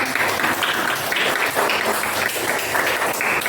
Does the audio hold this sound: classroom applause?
yes